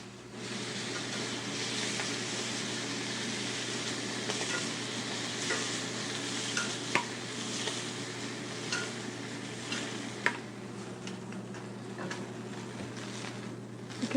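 Squab livers sear in a hot pan, giving a steady, moderately close sizzle with occasional small pops and crackles, heard alone with no voices.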